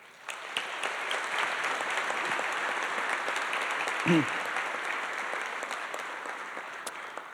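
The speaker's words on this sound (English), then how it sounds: "How about a round of applause for these graduates?" A crowd at an architecture school graduation applauding the graduates, steady dense clapping that holds for several seconds with a few louder individual claps standing out.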